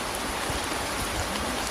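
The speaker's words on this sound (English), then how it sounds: "the rain sounds like this" Rain falling around a person standing under an umbrella, a dense even hiss of drops that stays constant throughout, with no talking.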